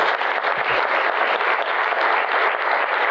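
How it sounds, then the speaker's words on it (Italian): Steady, dense applause from a large crowd at a morning conference on good living, sociability and local food fills the room, sustained and even throughout. "Grazie Giulia, e volevo fare un applauso anche a Giulia per aver gestito tecnicamente"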